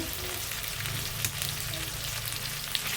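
Bay leaves and spices frying in hot oil for aloo dum, a steady, close sizzle throughout with small crackling pops, no talking.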